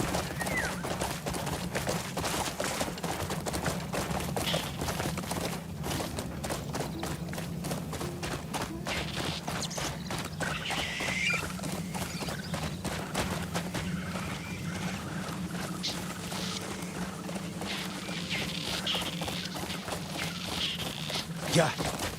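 A horse gallops with steady, rhythmic hoofbeats in the video game Crimson Desert, continuing for over twenty seconds under a low rumble and occasional speech.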